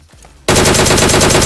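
Gunfire in a shooting video game: after a brief quiet moment, a loud, dense burst of rapid automatic fire begins abruptly and continues without a break.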